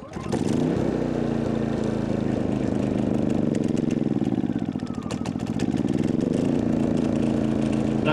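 A Maxpeedingrods 3500 W gas/LP generator runs steadily as it changes over from gasoline to propane, its engine hum loud and close, wavering slightly midway before settling, with brief talk over it.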